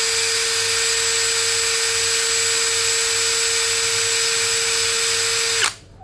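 A DCA ADJZ1203E cordless brushless drill running at speed setting 2, a steady high whine with a constant pitch and motor hum, close and loud, that cuts off abruptly near the end.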